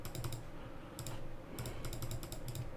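Rapid mouse clicking while playing Plants vs Zombies, bursts of crisp clicks in quick clusters over a steady low hum, close and fairly loud.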